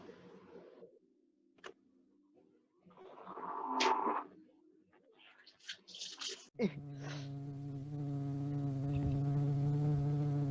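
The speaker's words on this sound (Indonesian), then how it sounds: "Kenapa si lalat ini selalu mengikutiku?" A housefly buzzes in a steady, droning hum that swells in and holds near and loud for several seconds, after scattered shorter buzzes and rustles.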